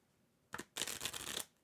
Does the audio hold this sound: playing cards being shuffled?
yes